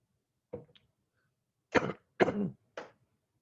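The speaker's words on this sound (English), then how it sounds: "let me get a quick sip of water here, clear my throat" A short cough followed by several rough throat clearings, close and loud, separated by brief pauses of silence.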